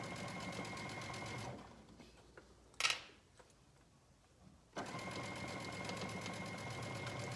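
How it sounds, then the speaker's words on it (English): A sewing machine stitches a fabric bottom with a rapid, steady mechanical chatter, stopping briefly for a corner pivot with a soft click and quiet rustle before running again at the same close, even pace. "So now sewing the fabric bottom is much easier than sewing the zipper on the fabric."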